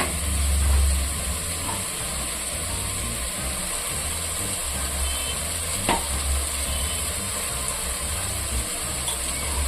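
Parotta salna masala frying in oil as salt is mixed in, giving a steady close sizzle with a low rumble underneath and an occasional sharp clink from the utensil, with no talking.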